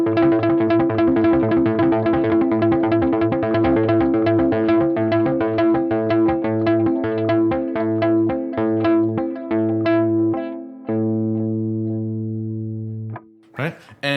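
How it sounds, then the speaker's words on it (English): A drop D electric guitar picks a rippling triplet pattern, with effects and echo, gradually slowing and settling into a sustained ringing chord before a brief sound at the end. "the guitar comes in and it fades in with this kind of triplet vibe and then slowly"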